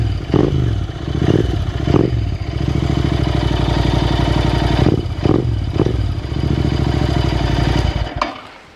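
A Royal Enfield Continental GT 650 motorcycle idles up close with a loud, steady twin-cylinder throb, punctuated by a few brief revs and clattery blips before cutting off at the end.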